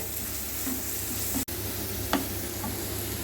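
Two small chopped onions fry in a clay pot with a steady, soft sizzle and occasional stirring scrapes, close and alone with no voices.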